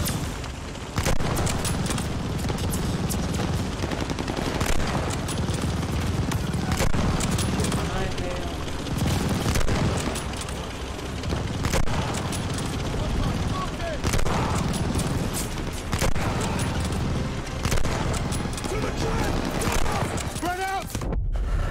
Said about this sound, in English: Pretty sure that's an enemy's head I'm shooting, man.